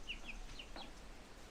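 Chickens in an Australian homestead garden give a few short, faint clucks in quick succession, distant and quiet against a still background.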